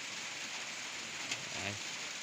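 Rain falls outdoors in a forest during a wild boar hunting outing, making a steady, soft, even patter throughout, with a faint brief murmur near the end.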